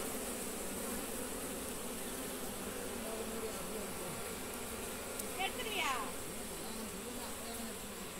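Apis cerana indica honey bees swarm around a wild honey harvest on a Tamil bee farm, their dense, steady buzzing droning throughout with a brief louder swell near the middle.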